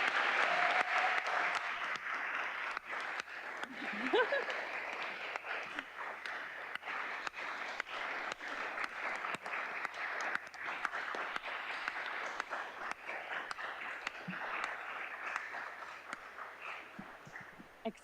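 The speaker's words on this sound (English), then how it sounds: "A round of applause," Audience giving a round of applause at a closing discussion session, sustained clapping from a seated crowd that holds steady for a long stretch, moderately near with scattered sharper claps.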